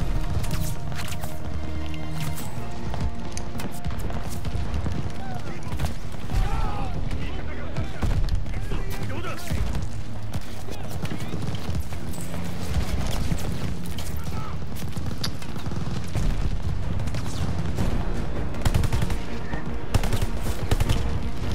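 Machine gun fire in a 1942 airfield battle from the Call of Duty Vanguard campaign, a dense, continuous clatter of automatic shots with booms and battlefield noise mixed in throughout.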